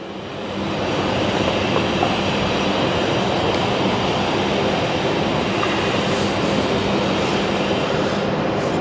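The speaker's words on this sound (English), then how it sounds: "Couple of trams in the distance back down there." Trams on George Street in Sydney rumble steadily in the distance, a continuous broadband roll of wheels on rails with faint clatter, heard alone for several seconds.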